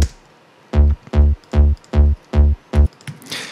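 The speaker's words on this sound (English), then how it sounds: "Just the Juno bass here sounds like this." Juno synth bass layer isolated from an electronic track: six punchy, evenly spaced bass notes with strong low harmonics, each sustained briefly then cut, playing alone and up close, followed by a faint airy tail.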